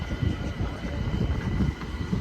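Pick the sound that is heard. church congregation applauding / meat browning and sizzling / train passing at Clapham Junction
train passing at Clapham Junction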